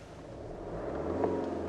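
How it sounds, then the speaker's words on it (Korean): A BMW engine runs at idle, a steady low rumble that holds even and fairly quiet throughout with no speech over it. "엔진, 엔진을 한번 들어보실래요?"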